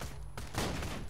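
A gun in the Borderlands 2 video game fires a rapid burst of close, punchy shots in a snowy area, loud and dense for about a second, with no talk.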